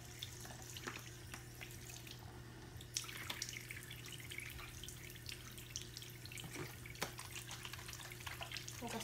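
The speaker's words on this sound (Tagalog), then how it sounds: "Hugas tayo kamay." Tap water running steadily into a sink during handwashing, a continuous close splashing hiss with small drips and knocks throughout, no talking.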